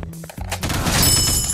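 Gunfire from the mobile shooter Teddy Bear Gun Strike: a few sharp shots open the clip, then a dense, loud burst of continuous automatic fire with rattling echoes fills the rest.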